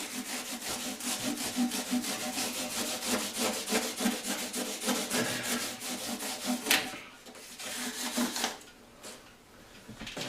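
Rhythmic back-and-forth rasping as a file works across guitar frets during a repair, steady close strokes that slow and break into pauses near the end, with no talk.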